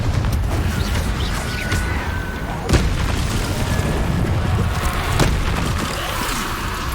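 A Confringo fire spell blasting in the Hogwarts Legacy video game, heard as dense, rumbling explosive booms with a sharp burst near the middle, layered over continuous battle noise and no speech.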